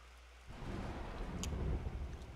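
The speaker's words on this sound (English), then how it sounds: "It's starting to rain harder." Rain and thunder in the video game Mario and the Music Box: a low rumbling thunder swells in after a quiet start, with a steady hiss of rainfall beneath and a brief bright tick partway through.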